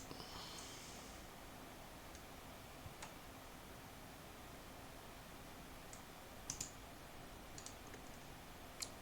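A computer mouse clicks during setup of a Litecoin wallet on a Ledger Nano S: a few faint, sharp clicks spaced apart in an otherwise quiet room.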